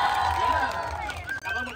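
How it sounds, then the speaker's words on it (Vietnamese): A crowd of fans at a meet-and-greet bursts into applause and cheering, a dense wash of clapping with raised voices and shouts running throughout and dipping briefly near the end. "Với cái tình cảm như thế này thì cũng xứng đáng thêm một tràng pháo tay của mọi người đây không ạ?"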